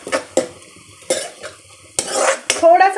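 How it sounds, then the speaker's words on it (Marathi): A spatula scrapes and clatters in a pan while finely chopped spring onion is stir-fried for Indo-Chinese paneer chilli, with a soft sizzle beneath several sharp, close utensil knocks. "यामध्ये घालायचं आहे अर्धा कप बारीक चिरलेला पातीचा कांदा हे छान असं परतवून घ्यायचं आहे"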